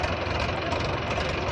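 A tractor engine runs steadily with a rough, knocking rumble at close range during sugarcane hauling, a dense continuous drone with no pauses.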